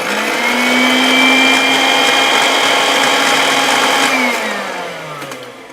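A kitchen blender whirs steadily while mixing chimichurri sauce, a loud continuous motor drone with a high whine that holds for about four seconds, then slows and winds down near the end, with no talking.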